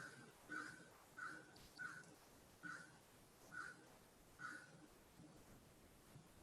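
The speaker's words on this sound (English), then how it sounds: "I greet the crows who are singing with a smile, with appreciation." Several crows caw one after another at roughly even intervals, moderately distant against a soft outdoor background hush with no talk.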